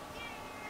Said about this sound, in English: Okay, the cat's not going to shut up.